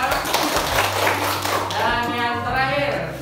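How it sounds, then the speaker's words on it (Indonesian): Students in a class applaud a presentation group, with dense clapping for about two seconds that fades as a voice starts talking. "Tepuk tangan untuk kelompok 3."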